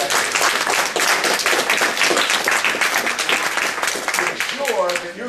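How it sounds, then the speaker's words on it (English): A room at a National Bar Association Diverse Partners Network event breaks into loud, dense applause that carries on throughout, with a voice starting to speak just as the clapping tapers near the end. "Let's give them a round of applause"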